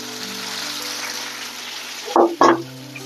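Garlic drops into hot oil with curry leaves in a pan, giving a soft continuous sizzle followed by two sharp, loud crackling bursts close by, with no speech.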